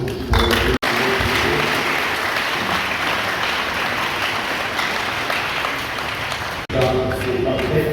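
An audience applauds teachers at a school gathering, with sustained dense clapping through most of the span, broken by brief gaps near the start and end, where voices can be heard.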